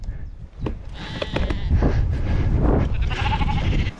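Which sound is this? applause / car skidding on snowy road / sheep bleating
sheep bleating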